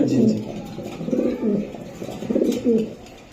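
Breeder and racing pigeons coo in repeated low, throaty bursts close by, the soft rolling calls overlapping in an uneven rhythm with no talking.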